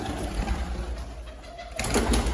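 Low, rolling pigeon coos repeat nearby, a soft burbling sound that swells again toward the end, with no voices.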